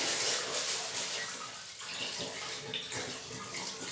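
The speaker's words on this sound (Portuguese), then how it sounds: "Eu coloquei água." Water splashes and pours steadily into a small basin holding bathroom cleaning sponges, a continuous close rushing wash with no talk.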